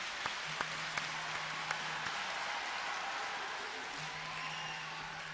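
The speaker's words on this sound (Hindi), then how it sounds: "छात्रों के साथ हाँ जोर से ताली बजाना चाहिए आपके लिए।" An audience at a stotra recitation event in Ayodhya applauds in sustained, dense clapping that fills the whole stretch at moderate loudness, with a few sharper individual claps standing out near the start.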